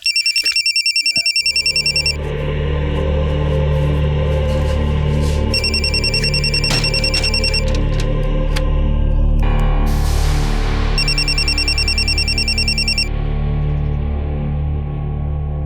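An electronic phone ringtone trills in repeated bursts, pausing between rings, over a background of low rumbling noise.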